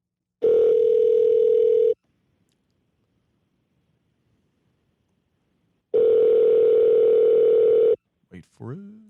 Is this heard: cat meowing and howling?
no